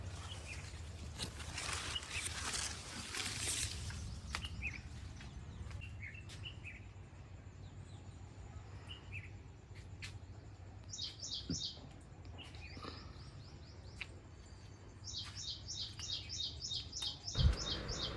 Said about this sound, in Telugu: రకరకాల పక్షుల అరుపులు ఎంత బాగుంటుంది చూడండి